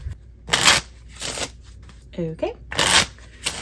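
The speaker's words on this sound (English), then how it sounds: "One last shuffle for good measure." A deck of playing cards is shuffled in several quick, crisp riffling bursts close to the mic, with a single short spoken word between them.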